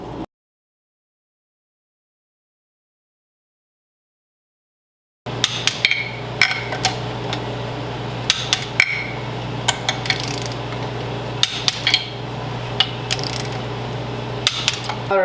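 Ratcheting torque wrench tightening cylinder bolts on a Seadoo 787 personal watercraft engine, starting after a stretch of silence with repeated sharp metallic clicks and clacks at close range over a steady low hum.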